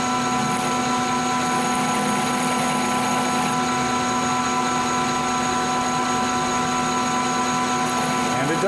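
Machine spindle turning a center drill at 440 RPM while cutting metal, a steady continuous mechanical hum with a constant whine throughout, moderately loud and unchanging.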